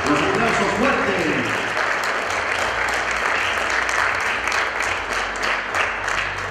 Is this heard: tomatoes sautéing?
no